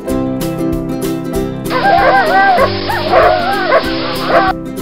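A dog yips and barks in quick repeated bursts over a bright children's animal song, the barks loud and close against the music.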